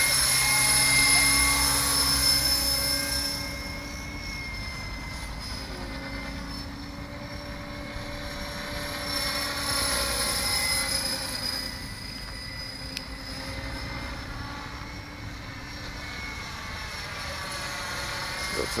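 A T-Rex 600 radio-controlled model helicopter flies outdoors, its high-pitched rotor and motor whine steady and droning, swelling and easing slightly as it moves nearer and farther, with no talk over it.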